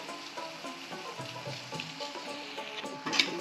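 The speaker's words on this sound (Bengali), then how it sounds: "নাড়াচাড়া করে দিই মশলাটা মেশানো পর্যন্ত নাড়াচাড়া করতে" Maggi noodles with masala are stirred in a pan, a soft continuous sizzle with faint scraping and gentle rhythmic stirring throughout, and a slightly louder clatter near the end.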